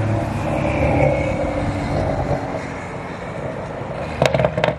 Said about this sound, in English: The M140 is popping and banging on his way in.